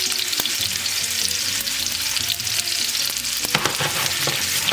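Shish kebabs shallow frying over low to medium heat in a cast iron fajita pan, a dense, steady close sizzle with faint crackles and occasional pops, no talking.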